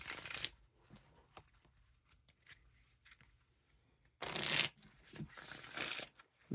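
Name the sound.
riffle shuffling Queen Bee playing cards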